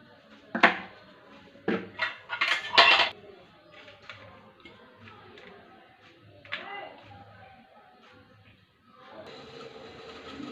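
Metal clinks and clatters as momos go into an aluminium idli steamer pot, a few sharp knocks and scrapes close by, then quieter rustling and a soft hiss near the end.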